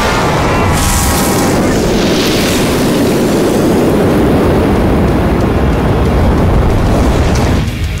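An animated fire-fist magic attack erupts in a loud, sustained roaring blast that fills the whole stretch before cutting off abruptly at the end.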